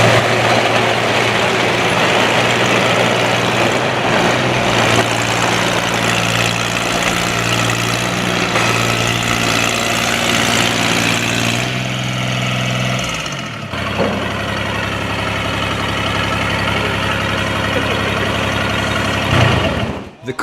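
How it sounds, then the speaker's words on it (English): A large 1/2.4 scale Tiger II tank model's engine idles steadily as it warms up with a deep, even drone, briefly dipping and changing pitch midway before settling back to a constant hum. "The engine's starting to warm up."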